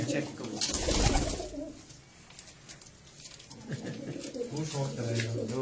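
Pigeons at a breeder's loft in Faisalabad coo in soft, low repeated calls, heard near and under people talking throughout.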